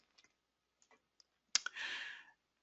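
Computer mouse clicking on a small pen button in business software, several faint light clicks followed by one sharp louder click and a brief burst of noise, close and quiet otherwise, no talking.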